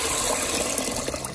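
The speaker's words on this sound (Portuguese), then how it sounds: "Então aqui eu vou cobrir com água." Water gushes from a tap into a pot of dry beans, about 1.5 litres poured to cover them for soaking, a loud continuous rushing fill heard up close.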